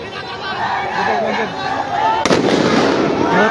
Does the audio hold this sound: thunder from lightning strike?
no